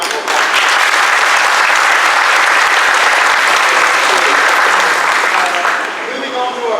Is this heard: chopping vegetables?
no